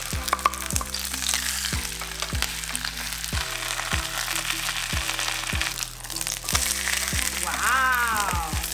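Corn jeon, a corn and cheese pancake, sizzles and crackles in a frying pan, a continuous hiss with popping bits, close and moderately loud, while a low repeating hum runs underneath.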